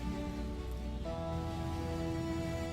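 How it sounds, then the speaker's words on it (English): Steady rain falls outdoors during restoration work on an abandoned fire truck, a continuous hiss of drops with a sustained musical tone layered over it. "Even in the rain, she does not stop."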